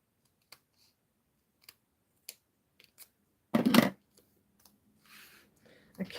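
Scissors cut through paper for a handmade house-shaped gift box: a few sparse, soft clicks, then one loud, crunchy close-up cut lasting under half a second, followed by faint rustling in a quiet room.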